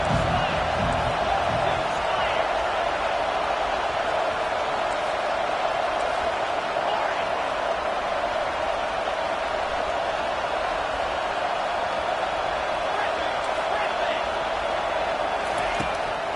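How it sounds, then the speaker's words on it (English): Steady roar of a college football stadium crowd in Auburn rising behind the defense on third down, a dense continuous wall of cheering with scattered whoops and an announcer speaking over it. "Decibels rising as the crowd gets behind this defense on 3rd down."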